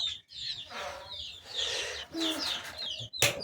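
Pigeons coo on a small poultry farm among chickens and ducks, mixed with busy high chirping and peeping from nearby birds, close and fairly loud throughout.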